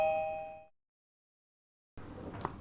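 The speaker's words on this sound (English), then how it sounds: "so did you all hear that doorbell going?" A doorbell gives a bright electronic chime with sustained tones that fade out, followed by silence and then faint rustling kitchen sounds.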